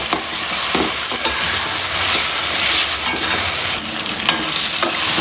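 Potatoes frying with spices for aloo palak, a loud steady sizzle in a pan with repeated scraping strokes of a stirring spoon, close and continuous with no talk.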